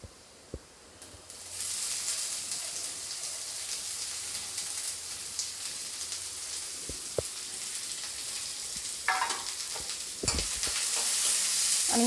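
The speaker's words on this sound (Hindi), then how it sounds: "अनियन डालने के बाद मैं अनियन को लाइट गोल्डन ब्राउन होने तक फ्राई कर लूँगी" Chopped onion frying in hot oil with garlic until light golden: a steady, close sizzle that swells after a quiet start and continues with occasional clicks of a spoon against the pan, without any speech.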